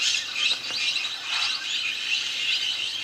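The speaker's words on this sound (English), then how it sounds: "These parrots are here for the same reason as the macaws, the healing qualities of the clay." Parrots gather at a clay lick along a riverbank, a dense chorus of bright, overlapping chirps and squawks that carries on without pause and sounds a little distant.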